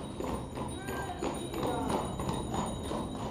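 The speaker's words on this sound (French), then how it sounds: "il y a des chevaux qui passent derrière" Horses passing somewhere behind, their hooves clip-clopping in a steady uneven patter at moderate distance, heard beneath a person talking throughout.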